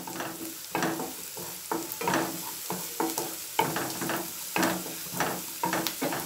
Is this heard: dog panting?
no